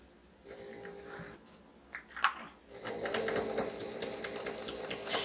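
Sewing machine stitching an X across fabric pieces: a soft, fast mechanical whirr of needle strokes starting faintly and steadying into a continuous close run, with a couple of small clicks before it.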